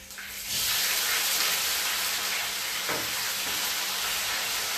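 Garlic and onions hit oil that isn't very hot, giving a broad, steady sizzling hiss that swells after a brief quiet start and holds close and loud, with faint utensil scrapes underneath.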